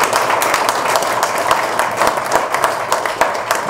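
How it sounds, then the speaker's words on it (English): Sustained audience applause after a panel discussion at a big data analytics symposium, dense steady clapping from a large crowd filling the room at a fairly loud level. "Round of applause, folks."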